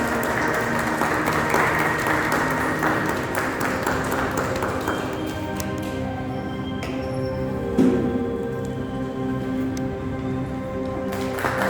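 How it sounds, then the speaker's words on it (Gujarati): Applause rolls through an award ceremony hall, a dense clatter of many hands that thins out midway, leaving a sustained tone and scattered claps toward the end. "શ્રીમતી જૈતુનબેન લાકડાવાલા દેસાઈને તાળીઓના ગડગડાટથી આ સ્ટેજ પર પધારવા અને બિરાજવા વિનંતી કરું છું।"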